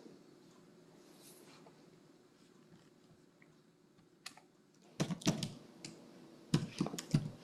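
Typing on a computer keyboard while entering a bill payment amount, a quiet hum and then from about five seconds two short bursts of close, crisp key clicks.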